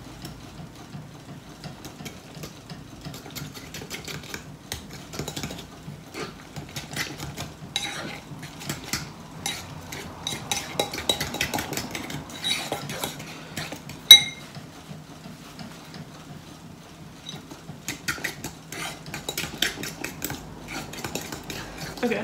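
A fork mixes banana bread batter in a bowl, with quiet repeated clinks and scrapes of metal on the bowl at an uneven stirring rhythm, close by, plus one sharper knock partway through.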